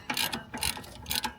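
A hand ratchet works on a Nissan 350Z NISMO being lowered, giving three short bursts of quick metallic clicking close by, with short pauses between them and no talking.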